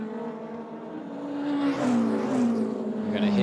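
Race cars sweep past during the Bahrain 8 Hours endurance race, loud engines roaring with a rising and falling pitch as they pass close by one after another.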